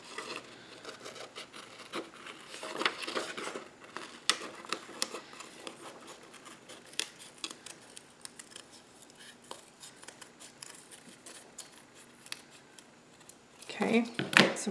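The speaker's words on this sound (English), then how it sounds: "grab my scissors and cut out around the edge of the round shape" Scissors snip through paper around the edge of a round shape during a craft project, a run of crisp, close cuts with rustling paper and a louder handling burst at the end.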